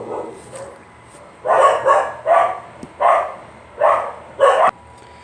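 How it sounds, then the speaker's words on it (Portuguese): Dogs barking in loud bursts, five or six barks in uneven clusters, fairly close, with a quiet pause before they start. "os cachorros estavam latindo muito"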